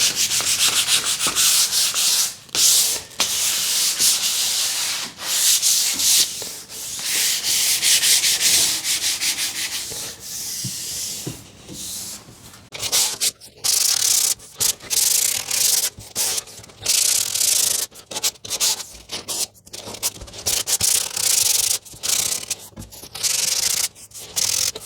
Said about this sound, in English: this part of the sanding really takes no time at all